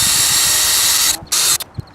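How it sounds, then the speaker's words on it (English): Power drill pre-drilling holes in wood for a recycled-material cold frame lid, a short steady whir with a high whine that cuts off, then a couple of quick bursts and stops, close by. "Just going to pre-drill my holes"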